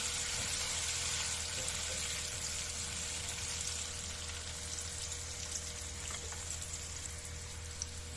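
Mixed vegetables frying in a pan with salt and turmeric in a home kitchen, giving a steady, close, continuous sizzle with no talking.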